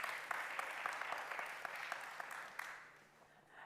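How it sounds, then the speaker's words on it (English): A summit audience applauds in a large hall, a steady, moderately distant clatter of many hands that thins and fades near the end. "Let's give them a round of applause, shall we?"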